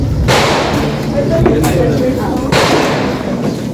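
Gunfire at the Jungle Fighter firing range, with concrete partitions, at Camp General Mateo Capinpin in Tanay sounds as a few sharp, loud cracks spaced seconds apart over a constant low background din.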